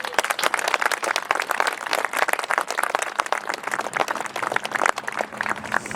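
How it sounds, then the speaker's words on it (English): Audience applause at a statue unveiling greets the sculptor, a dense burst of many hands clapping steadily for the full six seconds, fairly loud and close, with no talk over it. "Please give him a round of applause."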